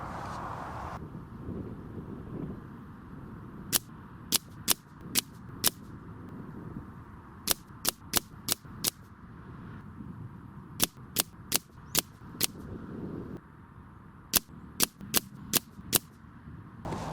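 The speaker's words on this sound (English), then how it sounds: "I've just shot those JSB in the air arms" An AGT Uragan 2 air rifle fires JSB pellets outdoors, giving sharp, crisp cracks in quick strings of four or five shots, with pauses between strings and steady wind rumble on the microphone underneath.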